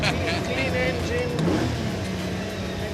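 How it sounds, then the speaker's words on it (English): Lamborghini V12 engine running while driving inside the car, a steady close engine drone with tire and road noise, faint under ongoing talk. "It sounds like an orchestra. Yes. Very nice, clean engine,"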